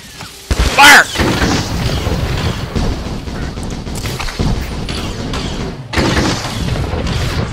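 Trooper weapon fire in a Star Wars: The Old Republic battle against Sand People, with a sharp loud blast near the start followed by a dense, continuous rumble of combat effects and booms.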